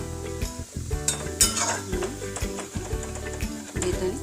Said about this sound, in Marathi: यात आपल्याला आता आधी बेदाणे फ्राय करून घेऊ